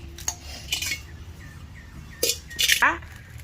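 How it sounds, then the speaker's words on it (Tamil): Spoons clink against a metal dish while mustard, chilli, asafoetida and turmeric powders are mixed for Avakkai mango pickle, giving a few bright scraping taps close by, with brief pauses. "கடுகு பொடி, மிளகாய் பொடி, பெருங்காயம், மஞ்சள் பொடி, இது எல்லாத்தையும் ஒன்றாக கலந்துக்கலாம்"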